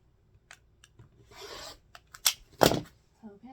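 Scissors cutting through folded cotton quilt fabric, a few close, crisp snips and a rasping slice, with soft rustling of the cloth between cuts.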